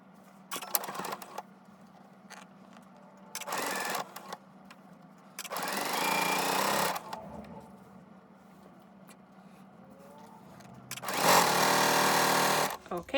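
A sewing machine stitches quilt pieces in several short runs of fast, steady whirring, the longest near the end, with quiet pauses and handling sounds between bursts.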